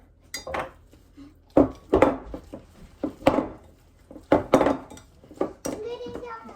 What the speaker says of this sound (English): Alright, start mashing.